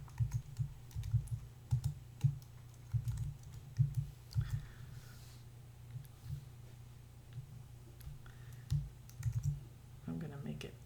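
Close, quiet clicking of keys on a computer keyboard as words are typed, coming in uneven bursts with soft thumps, steady throughout.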